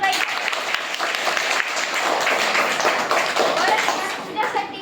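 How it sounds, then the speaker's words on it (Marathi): Schoolchildren at a Zilla Parishad primary school clapping together for a student during a quiz, brisk, dense applause that tapers slightly at the end, with faint children's voices mixed in. "वेदांसाठी सगळ्यांनी टाळ्या"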